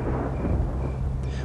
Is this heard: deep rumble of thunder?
yes